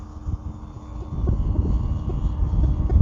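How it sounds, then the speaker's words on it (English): The electric motor of an E-flite Conscendo RC plane starts up and spins, a steady whirring drone that grows louder over a few seconds, with some wind noise. "Kicking on the motor."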